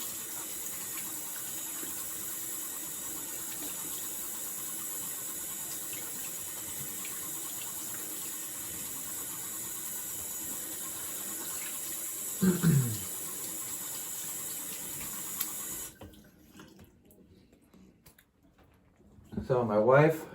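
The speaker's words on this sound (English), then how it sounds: "All right, cold water, let's rinse this off." Cold tap water runs steadily to rinse shaving gear, a badger brush and razor, in a sink, a continuous close hiss that briefly splashes, then cuts off before a final splash of rinsing.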